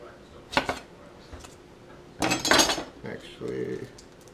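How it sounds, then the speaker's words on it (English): A knife slicing an onion on a cutting board, a few sharp cutting strokes and board knocks in short irregular bursts, close and fairly clear, with a voice talking between them. "And then just cut the onion like this."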